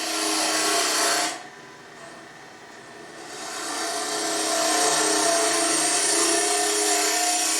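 A wood lathe hollows the inside of a small turned box at a barn demonstration, a steady high whirring cut that drops off briefly near the start and then builds back to a sustained loud scraping hiss.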